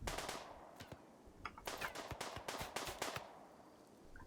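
Video game gunfire rattles out in rapid automatic bursts, loud and close, separated by short pauses, with no talking.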